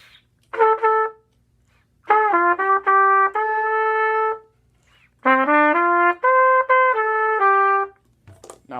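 Solo trumpet playing a melody with slurred notes, three clear phrases of smoothly connected tones separated by short pauses, close and fairly loud.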